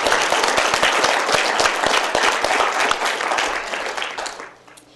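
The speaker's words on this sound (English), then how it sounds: "Can we have everybody applause?" Audience applause at a county Board of Supervisors meeting honouring a fundraising donor, dense sustained clapping from many people that fades out at the end.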